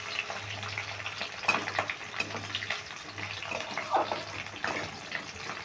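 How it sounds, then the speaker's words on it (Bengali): Chopped capsicum stirred and lightly fried on medium heat for chilli fish, a continuous soft hiss of frying with occasional stirring scrapes and a low steady hum underneath. "ক্যাপসিকামটা দিয়ে আমি একটু নেড়ে একটু হালকা করে ভেজে নিলাম।"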